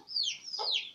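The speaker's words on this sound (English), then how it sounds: "It's a chicken." A farm chicken gives a short, close cluck-like call, a bright squawk that rises and falls in under a second with no talk over it.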